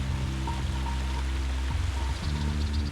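Clean, oxygenated Córrego dos Rolinhos stream on the Chapadão da Canastra plateau in Serra da Canastra National Park, flowing in a steady, close, broadband rush with no voices.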